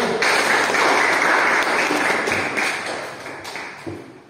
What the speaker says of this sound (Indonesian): Oke, kita berikan aplaus kepada kelompok 1.